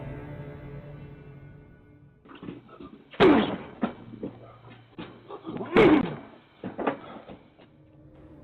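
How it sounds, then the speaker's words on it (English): Two heavy, loud thuds as a man slams his body against the front door of a house, each impact rattling sharply, with smaller knocks, shuffling and faint voices in between. "a young man in a bandana covered in what appears to be dirt or blood, repeatedly slamming himself into the front door of a house"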